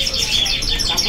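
Several cage birds at a bird-market kiosk, including zebra doves, chirp and coo in a busy, close overlapping chorus of short tweets.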